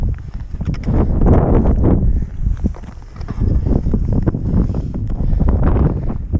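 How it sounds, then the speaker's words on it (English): Strong gusting wind buffets the microphone on the 2,582-foot summit of Mount Roberts, a loud, continuous rumbling roar with surging gusts and no speech. "the wind is whipping"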